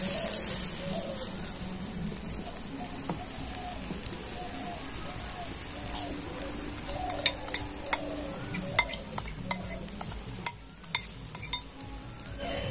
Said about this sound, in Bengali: দিয়ে ব্যাটারটা এরকম ফ্রাই প্যানটা চারিধারে খুব ভালো করে ছড়িয়ে দেব।